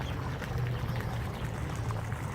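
Water splashes and pours steadily from a park fountain ringed by white tulips in a rose garden of Vienna's Volkspark, a continuous even wash with no voices.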